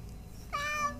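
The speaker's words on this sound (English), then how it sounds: "What a mean cat." A single cat meows once, a clear rising-then-falling cry lasting about half a second, close by and fairly loud, with no talking around it.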